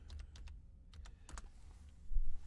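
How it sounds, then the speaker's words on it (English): Typing on a computer keyboard during AutoCAD drafting, a quick run of close, crisp key clicks in small bursts over a low steady hum, with no talk. "I want to type the number here."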